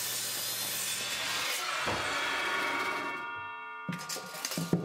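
A miter saw cuts birch plywood with a loud, close, rasping blade roar that winds down into a fading ringing whine, followed by a few light knocks as the cut piece is handled.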